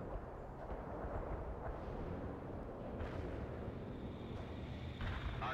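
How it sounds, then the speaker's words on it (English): Artillery barrage in the real-time strategy game World in Conflict: a dense, continuous rumble of distant explosions with a few sharper blasts rising out of it, heard alone without talk. "Wilco, fire mission received. Artillery barrage inbound."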